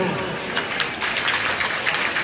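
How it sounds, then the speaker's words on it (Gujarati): A crowd applauds at a religious death-anniversary gathering for Kalyandasji Bapu in Nana Varachha, a dense, steady patter of clapping with voices mixed in underneath. "તાળીઓથી વધાવો"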